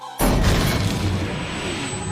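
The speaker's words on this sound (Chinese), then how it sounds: "直接2枚导弹就轰了过去。" Two missiles strike an alien spaceship in a science-fiction movie scene, an abrupt loud blast that bursts in after a short silence and rolls on as a dense, rumbling roar.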